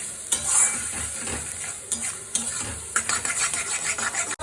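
A paste of prawn and pointed gourd fries in oil as it is stirred, giving close, crackling sizzles with repeated spatula scrapes and knocks against the pan.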